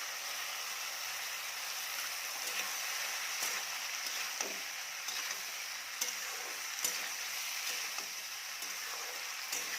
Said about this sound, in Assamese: এতিয়া এইখিনি মই 5 মিনিট মিডিয়াম ফ্লেমত ভাজি থাকিম।